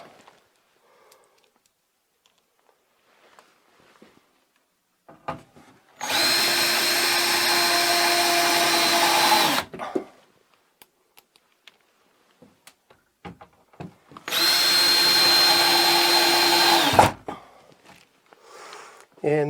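A power drill drives screws through plywood behind a Leviton circuit breaker load center, two sustained whining bursts of several seconds each, close and loud, separated by quieter handling knocks and clatter.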